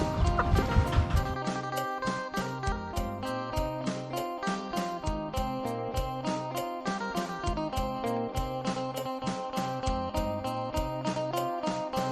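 A group of chickens clucks and pecks nonstop while eating meat, making a dense, close chatter of short clucks and quick, rhythmic pecking taps.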